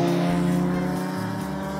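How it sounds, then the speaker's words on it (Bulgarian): Motorcycles ride a winding mountain road, their engines a loud, close, steady droning whine that shifts slightly in pitch as they rev. "Както чувате, мотоциклетистите много го обичат този път."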